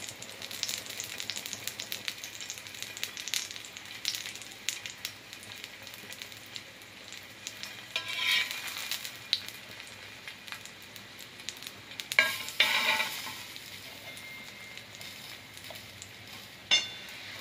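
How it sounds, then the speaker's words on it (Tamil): Bun parotta frying in oil on a dosa pan over a medium flame, giving a steady close sizzle with occasional sharper crackles and spatters throughout. "எண்ணெய் ஊற்றினதில் பரோட்டாவை போட்டுடலாம்."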